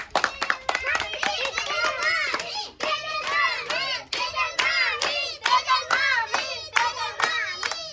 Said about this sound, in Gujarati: તો તાળી બજાવો હેડો ફટાફટ